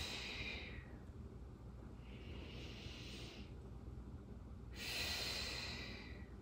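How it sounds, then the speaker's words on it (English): Audible exercise breathing during a no-equipment postpartum abs workout: three slow, breathy exhales rise and fall in a steady rhythm, close to the listener and fairly soft, with quiet breaths between them. "Really audibly make these breathing noises while you exercise and while you do your breathing exercises."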